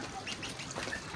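Young Mirror breed ducks, about three weeks old, quack in a short, dense chorus close by, with several calls overlapping at once.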